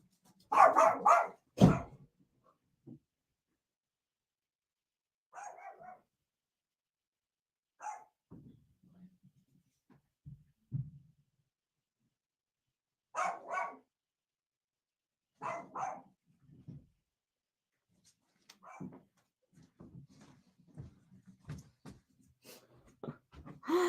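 A pet dog barks in scattered bursts, some loud and close, others fainter growls and yips, separated by stretches of quiet over about twenty-four seconds, indoors during a conversation.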